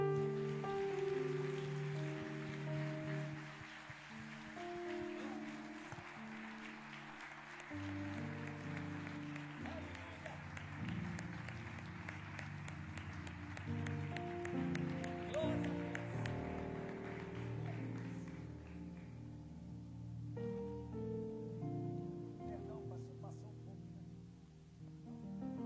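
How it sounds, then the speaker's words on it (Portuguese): A church congregation applauding during a worship service: a dense, steady wash of clapping runs throughout, blended with music and voices underneath. "Aplauda o Senhor."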